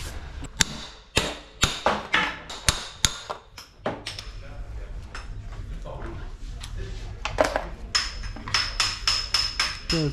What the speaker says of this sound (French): moi je tape avec un marteau